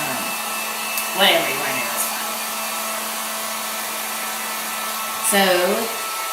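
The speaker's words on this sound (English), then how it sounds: "I have this handy dandy heat gun, but a hairdryer does just as well." A heat gun used for a firework blocks craft blows steadily, a loud continuous whoosh filling the clip from start to finish, with someone speaking briefly over it.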